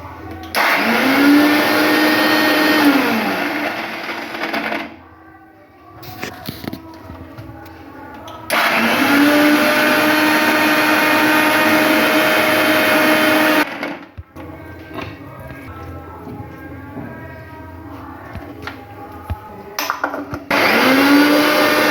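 A mixer grinder grinds carrots for carrot halwa in three loud, steady whirring runs, each stopped abruptly. A voice talks in the quieter gaps between runs.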